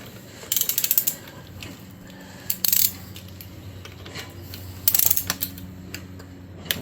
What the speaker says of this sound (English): And now we torque these to 96 inch-pounds.